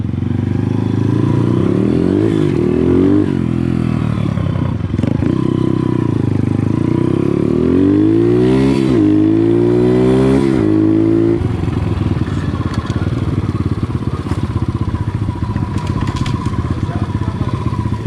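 A motorcycle engine roars steadily throughout, revving up and down with rising and falling pitch as it rides, loud and close.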